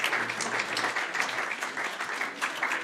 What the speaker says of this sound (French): Vous pouvez tous les applaudir.